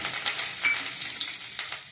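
Curry leaves hit hot oil in a tempering for Kolhapuri bhadang, a spicy puffed-rice snack, giving a steady bright crackling sizzle with small spits and pops throughout, alone and close.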